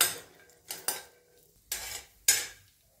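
Peanuts and spices are stir-fried in a pan, giving four or five sharp metallic scrapes and clanks of a spatula against the pan, separated by near silence.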